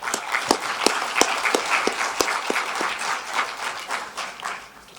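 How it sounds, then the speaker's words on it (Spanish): An audience at a medical conference in a hotel hall applauds a psychiatrist speaker, dense steady clapping from a crowd that gradually fades toward the end. "Un aplauso para la doctora."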